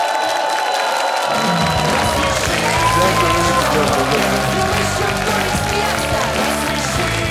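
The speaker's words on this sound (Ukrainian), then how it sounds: "Оплески залу і вітання всієї країни" A studio audience on a Ukrainian comedy show breaks into loud, sustained applause and cheering, a dense wash of clapping that fills the whole stretch with crowd noise and some voices mixed in.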